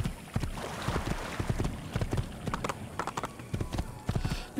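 A horse's hooves clip-clop in a steady, rhythmic gallop across open ground in the Assassin's Creed video game, moderately loud and continuous with no talking.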